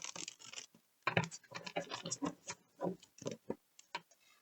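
Tarot cards being shuffled by hand: a string of quiet riffling flicks and soft scratchy taps in irregular bursts, close and faint.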